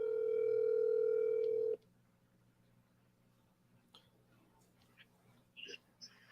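A telephone dial tone hums loud and steady while a phone call is being placed, then cuts off into near silence broken by faint clicks and a soft voice.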